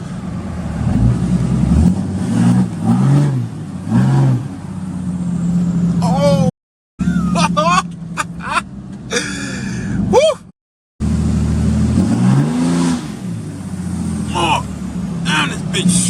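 A 6.7 Cummins diesel pickup running an HPP EFI Live tune accelerates hard, its loud engine roar rising and surging close by, with two short dropouts and voices exclaiming over the top.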